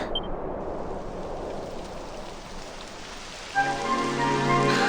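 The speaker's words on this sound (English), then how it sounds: "It would have to go and start raining" Rain pours down in the video game Dragon Quest XI, a loud, dense, continuous hiss of falling water that holds steady throughout, joined near the end by swelling sustained musical notes, with no one talking.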